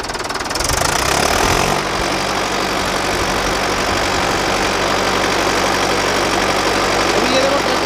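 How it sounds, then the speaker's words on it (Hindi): Mahindra 585 DI XP Plus tractor diesel engine straining to climb out of a deep pit, a loud, steady knocking drone that surges early then holds, with someone talking over it. "अभी ये देखो ट्रैक्टर निकल चुका है"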